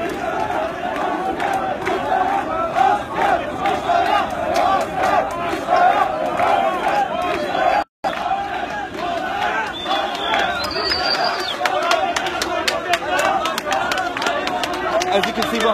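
A tense crowd in Taksim Square pushes and argues with soldiers: continuous loud shouting and agitated babble from many voices, with a momentary dropout midway and a thin whistle-like tone later.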